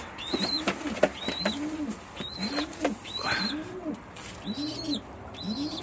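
Racing pigeons in a loft coo in a repeated, rhythmic series of soft, rolling calls, fairly close, with occasional chirps and a faint flutter of wings between them.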